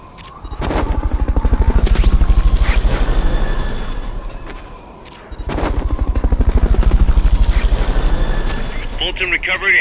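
Fulton recovery helicopter from the video game Metal Gear Solid Peace Walker, a loud, rapid rotor chop with sweeping whooshes that rises, dips briefly midway, then returns, with game voice lines spoken over it.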